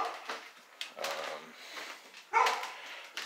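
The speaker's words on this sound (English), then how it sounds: "The neighbor's dogs are barking at Daisy" Neighbor's dogs barking in short bursts from nearby, with yips and whimpers, some barks faint and one louder at the end, in a quiet house under renovation.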